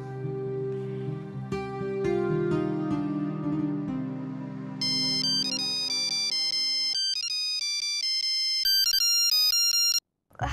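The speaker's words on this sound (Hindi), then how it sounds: "मैं बस अभी फोन मिलाती हूँ" A phone ringtone plays a melodic electronic tune that shifts into a higher, brighter chiming pattern, loud and close, before cutting off abruptly near the end.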